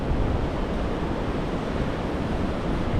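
Waves break along the North Sea shore as a constant, loud, broadband roar of surf with wind, steady and close for the whole stretch.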